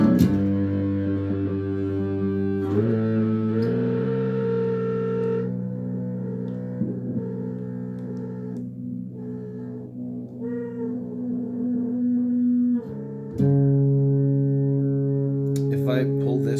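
Sustained electric-guitar oscillation driven by a homemade humbucker-slot sustainer driver, droning with stacked harmonics and shifting pitch as it changes mode, loud and continuous with a brief dropout near the end.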